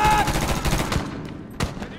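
Rapid bursts of gunfire from the video game Medal of Honor (2010), a cave assault with automatic weapons rattling continuously, a sharp loud shot standing out near the end, with faint voice underneath.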